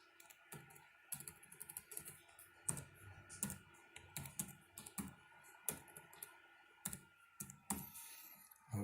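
Close, light typing on a computer keyboard while setting up a freshly formatted Windows laptop or desktop, irregular clusters of soft key clicks with short pauses, no voices.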